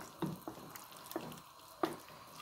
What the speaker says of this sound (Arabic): هانتوما انا كنضيف الحليب حتى تنسجم مع الحليب مزيان